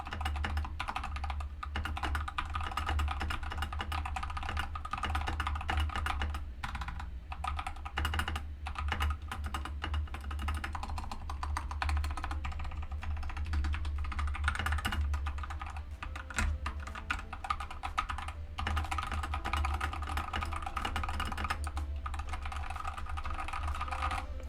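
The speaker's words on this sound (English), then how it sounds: "These are the pink switches on the Phantom Plus Elite 87 version" Close, quiet typing on a Tecware Phantom Plus Elite 87 keyboard with pink switches, a continuous stream of light, rapid clacks over a soft low hum.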